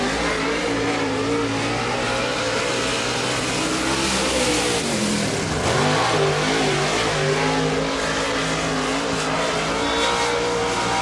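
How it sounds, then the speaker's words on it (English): Levi Hicks's number 4 race car, a Masters-built chassis of 4 Boys Racing, roars loudly around the track on a timed lap, its engine note rising and falling steadily without pause. "Next car, been car number 4, Levi Hicks out of Andrews, North Carolina."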